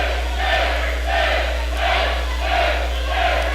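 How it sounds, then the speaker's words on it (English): A crowd at an Anarchy Wrestling title match chants in a steady, repeating rhythm, loud and close, with a constant low electrical hum beneath. "I think the crowd here is telling CB Suave that was a 2 count"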